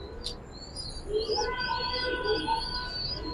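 Gribaz pigeons kept in a loft give soft, low cooing mixed with a few thin chirps, a steady murmur of birds close by with no talk.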